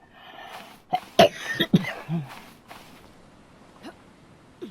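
Several short, sharp coughs close by, a cluster near the start and another about half a second later, then a few fainter rustles and a throat noise, with no talk.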